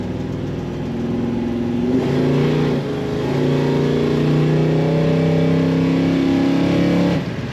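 A 1971 Buick GS Stage 1 engine drones and then revs up strongly, pitch climbing steadily as it accelerates, loud and close with no voices.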